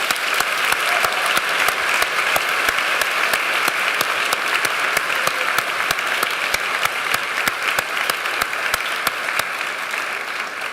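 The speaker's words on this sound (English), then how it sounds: "Let's give them a round of applause" Sustained, dense applause from an audience at a medical school white coat ceremony, steady and loud throughout with no voices breaking through.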